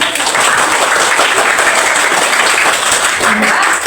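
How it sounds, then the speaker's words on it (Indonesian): Loud, close clapping from a classroom of primary school pupils after a group presentation, continuous and even throughout. "Tepuk tangan"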